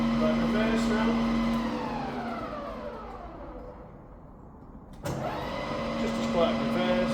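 A rebuilt Bridgeport milling machine spindle winds down and then starts again in reverse, a loud close motor whine with a steady tonal hum that falls away and then surges back, with a voice talking over it.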